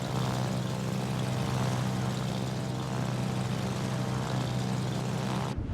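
Carrier aircraft in World of Warships drone on at a steady, continuous engine pitch with a propeller buzz, loud and unbroken, and no voices over it.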